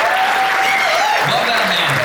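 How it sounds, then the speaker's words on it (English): Audience applause for a man honoured at a Christina Grimmie Foundation East Coast charity event, a dense steady roar of clapping throughout with cheering voices rising over it. "So give Grandpa Grimmie a big round of applause this year tonight."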